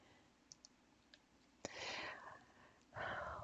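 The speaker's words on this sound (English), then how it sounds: "I'm going to left click, hold it down, drag," A few light computer mouse clicks, sharp and quiet, spaced apart in an otherwise hushed room, followed by soft breathy rustling noise.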